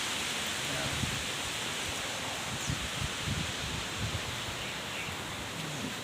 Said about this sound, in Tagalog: bagyo talaga sa lakas ng hangin